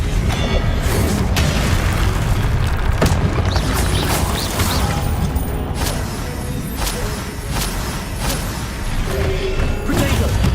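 Confringo blasting spells and combat in Hogwarts Legacy, a dense run of booming explosions, crashes and bursts repeating rapidly over a loud, continuous rumble, with no voices.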